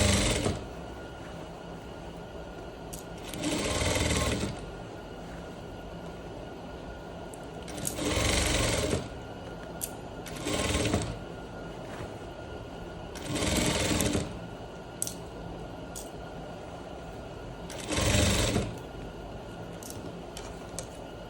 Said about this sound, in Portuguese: Eu vou colocar aqui um retrocesso bem titico, só pra ter mesmo, tá? E vou vir costurando.